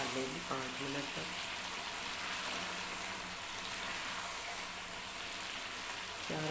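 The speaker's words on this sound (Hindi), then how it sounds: "ये देखें गोश्त हमारा बिल्कुल अच्छे से हमने भून लिया, पका लेंगे 5 मिनट तक।" Meat and potatoes fry in ghee in a pot, giving a steady close sizzle and crackle that runs through the whole stretch with no talking.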